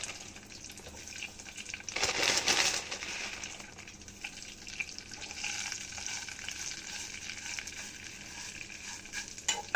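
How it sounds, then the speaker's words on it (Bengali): Vermicelli frying over very low flame in a pan with chopped almonds, a soft continuous sizzle and rustle with a louder stirring burst early on, close and without talk. "খুব সামান্য ভাজবো, বেশি ভাজবো না, পুড়ে যাবে। আমি এখন সেমাইটা দিয়ে দিচ্ছি"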